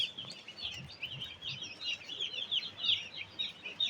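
Day-old broiler chicks in a fenced brooder pen of about two hundred birds keep up a continuous chorus of high, overlapping peeps, moderately loud and steady with no talk.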